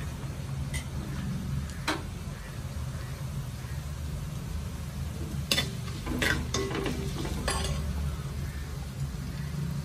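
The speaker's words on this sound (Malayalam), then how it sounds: "ഒരു സ്പൂൺ ഉലുവയും കൂടെ ഇട്ട് പൊട്ടിക്കാം." Fenugreek seeds crackle and splutter in hot oil, with a low steady frying hiss broken by scattered sharp popping ticks throughout.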